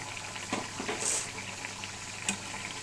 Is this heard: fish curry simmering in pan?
yes